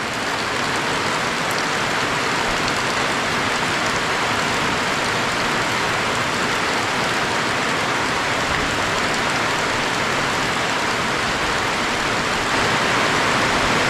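Heavy rain pouring down, a dense, loud, unbroken hiss of water on surfaces that holds steady the whole time.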